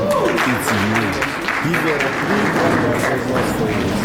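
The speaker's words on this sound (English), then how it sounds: "Give a big round of applause for him." An audience applauds steadily at an education seminar, dense clapping throughout, while a voice talks over it.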